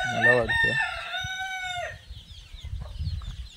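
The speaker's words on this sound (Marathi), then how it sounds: "कोंबड्या तर आलेल्या आहेत बघा" Free-range village chickens feeding on drumstick leaves: a rooster crows loudly and close for about two seconds, then softer clucking and scratching follow in a quiet farmyard.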